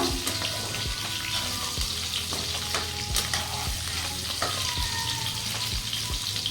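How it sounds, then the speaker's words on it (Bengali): Potatoes fry in hot oil in a pan, a steady crackling sizzle with repeated sharp clacks of a spatula or spoon stirring, close and fairly loud throughout. "আলুগুলো লাল লাল করে ভেজে নেব।"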